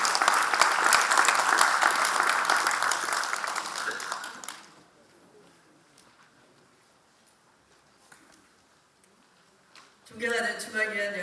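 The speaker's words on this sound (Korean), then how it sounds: "큰 박수로 맞이해 주시기 바라겠습니다" An audience at a party central committee meeting applauds to welcome the party leader, with dense, loud clapping for about four seconds, then a quiet stretch with faint scattered sounds before a voice begins speaking.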